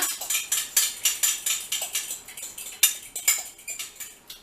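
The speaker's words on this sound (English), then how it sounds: "So that is all nicely whisked together." A whisk beats ingredients together in a bowl while making homemade chicken nuggets and sausage rolls, giving quick, steady metallic clinks and scrapes close by, with no talking.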